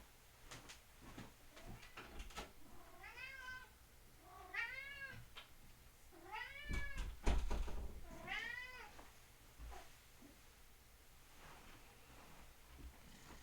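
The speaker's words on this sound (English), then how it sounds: "You can probably hear him meowing outside the closed door." A cat meows repeatedly outside a closed door, four or five drawn-out cries at a steady pace, sounding slightly muffled, with occasional thumps and rattles.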